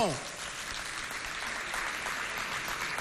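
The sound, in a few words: audience applause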